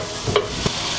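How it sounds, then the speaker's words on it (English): Four tablespoons of butter melting in a frying pan over medium-high heat, giving a steady soft sizzle with a couple of brief stirring clicks, close and alone. "Into the frying pan, I'm going to put my 4 tablespoons of butter."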